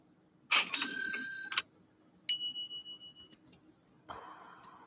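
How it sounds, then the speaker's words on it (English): Bell and ding sound effects are previewed one after another in a video editor: several short bright rings with fading overtones, separated by gaps of silence. "I'm just not liking the bells I'm hearing."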